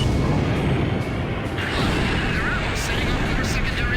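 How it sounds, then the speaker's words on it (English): Explosions in the combat flight game Ace Combat 5 during a fortress assault with advancing tanks: a dense, continuous roar of rumbling blasts and crashing booms, loud and unbroken for the whole stretch. "setting up more secondary explosions"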